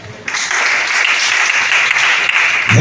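A church congregation breaks into sustained applause, a dense, loud wash of clapping that starts abruptly and holds steady to the end.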